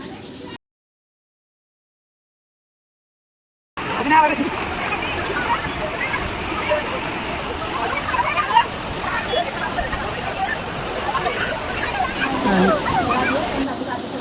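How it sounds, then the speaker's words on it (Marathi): A waterfall pours and splashes steadily at a picnic spot, a continuous broadband rush after a brief silent gap near the start, with occasional louder splashes and voices of people playing nearby. "वरती मस्त धबधब्याचं पाणी पडतं"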